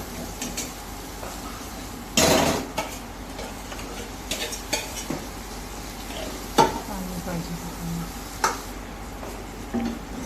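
Ambadi (roselle) leaves tipped into a hot spiced tempering, with a steady low sizzle and intermittent scraping stirs of a spoon against the pan, one louder clatter early on.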